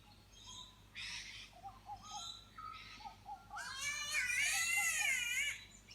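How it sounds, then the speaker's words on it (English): Several birds call outside a front door in Australia: short chirps and whistles give way to loud, wavering cat-like wails, close and clear, with no talking. "A lot of bird activity in Australia."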